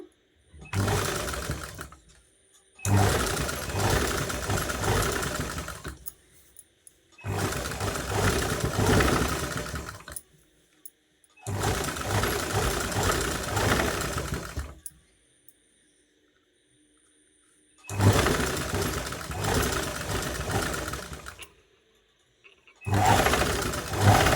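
A sewing machine stitches piping made from a border strip onto a dress neckline, running in several steady bursts of a few seconds each with short pauses between them, close and clear with no talking.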